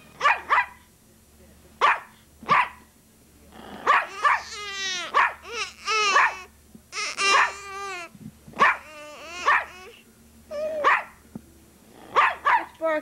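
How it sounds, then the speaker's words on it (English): A dog barks repeatedly in short bursts, mixed with whiny yips and whimpers, close by, with a quiet steady hum underneath. "What you barking at?"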